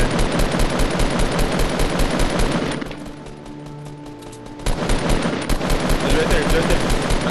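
Sustained rapid automatic gunfire in the Fortnite battle royale game rattles loudly and continuously, breaks off for about two seconds into a quieter hum, then resumes at full intensity.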